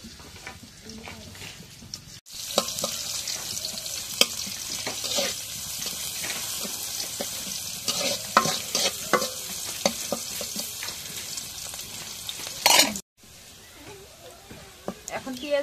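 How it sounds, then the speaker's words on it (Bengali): Garlic, raw onion and green chilies hit hot oil in a pan, setting off a sudden bright sizzle with stirring that runs steadily before cutting off abruptly near the end. "এখন রসুন, কাঁচা পেঁয়াজ, কাঁচামরিচ দিয়ে দিই।"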